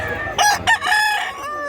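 A rooster crows at a poultry seller's, a loud, near cock-a-doodle-doo in bursts over about two seconds.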